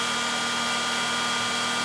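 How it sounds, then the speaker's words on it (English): In standard mode, an Oraimo UltraCleaner S vacuum cleaner gives off a constant close motor whir with a thin tonal whine, steady and unchanging, with no one speaking. "So there's the standard mode,"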